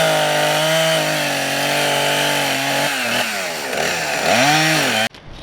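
A chainsaw runs loudly up close on a farm, its engine pitch rising and dropping as it bites into a tree, then cuts off abruptly.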